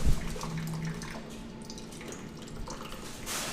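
Heavy water leaking into a flooded living room, a steady broadband rush of pouring and splashing that holds at a fairly even level throughout, with a sharp knock at the very start.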